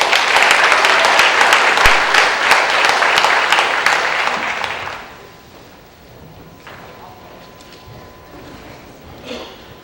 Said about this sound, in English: Let's give the bowling team a round of applause.